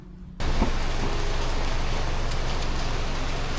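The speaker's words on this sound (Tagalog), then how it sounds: "grabe lakas ng ulan pero okay lang" Heavy rain pours down steadily outdoors in a residential street, a dense, loud hiss that starts abruptly and holds constant, with faint patters and drops mixed in.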